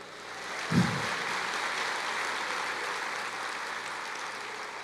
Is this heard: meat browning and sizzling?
no